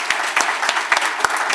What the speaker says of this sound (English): Please join me in a round of applause for Dennis and Sukwafis.